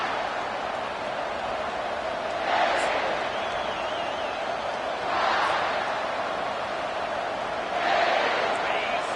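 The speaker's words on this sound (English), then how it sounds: "This crowd bringing an ear-splitting welcome to their visitors." Stadium crowd at a football game swelling into a loud roar in repeated surges over a steady background din, broad and distant-sounding.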